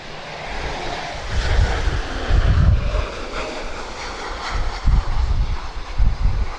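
A Bulgaria Air Embraer jet at Lisbon Airport gives a broad roar that rises and falls, with gusty wind noise buffeting the microphone.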